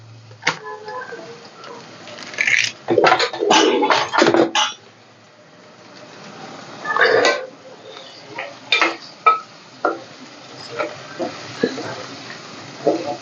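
Tomatoes tipped into a pan of fish curry, a burst of clattering, sizzling and spoon scraping early on, then scattered sharp clinks and stirring taps, close and fairly loud.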